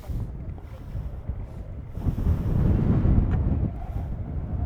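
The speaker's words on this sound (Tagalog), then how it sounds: "Grabe, solid yung lakas ng hangin." Strong wind gusts buffet the microphone at the Pantabangan lake view deck, a low rumbling roar that builds in the second half and stays loud, with no voices.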